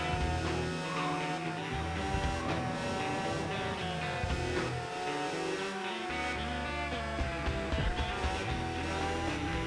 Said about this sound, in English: I'm not listening to a broken engine note for 21 minutes.